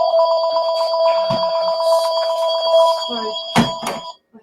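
A phone rings indoors with a repeating electronic trill, fairly loud and close, as a person makes brief vocal sounds and noises near the end before it cuts off.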